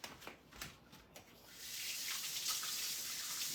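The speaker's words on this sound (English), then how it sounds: "Let me wash my hands." Water from a kitchen tap runs steadily as hands are washed, a hissing rush that starts after a few soft knocks and handling noises and continues to the end, close and with no talk.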